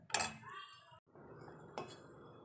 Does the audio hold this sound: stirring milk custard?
yes